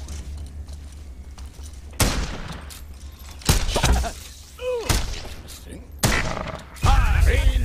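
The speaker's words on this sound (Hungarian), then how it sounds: "És mindjárt robban ott valami." Explosions in the block-building shooter game Block N Load, several loud booming blasts with crashing debris, between them gunfire and thuds and a descending whistling effect, each blast followed by rumbling decay.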